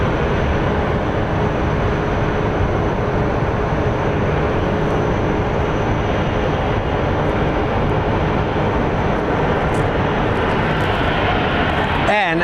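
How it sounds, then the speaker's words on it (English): A SkyWest jet from Los Angeles on final approach to land at Phoenix Sky Harbor International Airport, its engines making a sustained, even rumble throughout, with a brief disturbance near the very end. "our SkyWest flight from Los Angeles is on final, almost landing."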